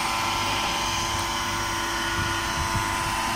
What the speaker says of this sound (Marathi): व्यवस्थित सर्व बाजूने बीटर मशीन फिरवायचे